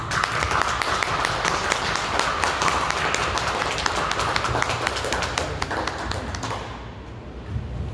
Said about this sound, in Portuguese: Uma salva de palmas para a filial de Belém